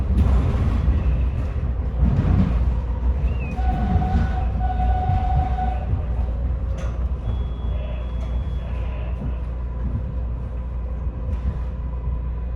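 A metro train pulls into the airport station in Atlanta, a steady loud rumble of wheels and rail noise with a brief whistling tone and a faint beep, continuous throughout.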